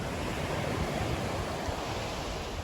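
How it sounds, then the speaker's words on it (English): Pacific Ocean surf at Gold Bluffs Beach, California, a steady broadband wash of breaking waves rolling on without pause, moderately loud and close, with a light touch of wind and no voices. "And of course, the beautiful Pacific Ocean."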